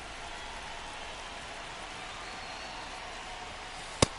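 Steady hiss of rain pouring over the ballpark at Truist Park in MLB The Show, a constant even wash of drops with one sharp click near the end.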